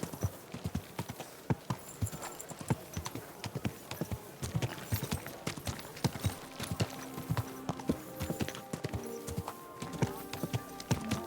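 Horse hooves clip-clop in a steady, uneven rhythm on a hard street in the medieval world of Kingdom Come Deliverance 2, close and continuous, with crowd voices and talk mixed in.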